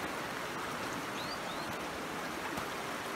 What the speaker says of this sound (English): It's like a river.